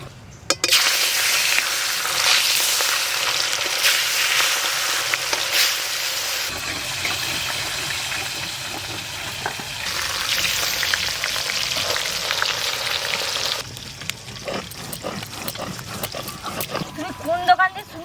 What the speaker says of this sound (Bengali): তেল গরম হয়ে গেছে এবার সব মাছ ভেজে নেবো